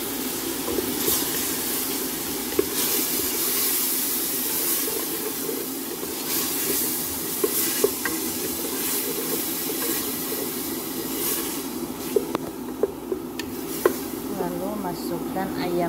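Blended tomato poured into a hot pan for chicken kabsa, sizzling and hissing steadily throughout at moderate volume, with a few clinks of a utensil.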